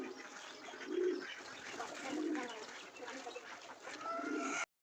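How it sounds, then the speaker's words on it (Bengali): Pigeons coo in a backyard loft kept alongside ducks and chickens, with a few low, rounded coos repeating at intervals over a soft background of other bird calls, fairly close. "সব পায়রাগুলো সারা রয়েছে এখানে।"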